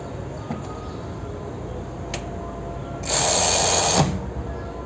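A Keelat KRW003 long-reach brushless cordless ratchet wrench runs at full speed for about a second, a steady high motor whir rising over a quiet room and then stopping abruptly.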